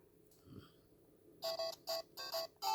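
Bright, chiptune-style electronic beeps from a Mario game on a Game & Watch handheld play in a quick bouncy rhythm of short bursts, preceded by a faint low hum and a small knock.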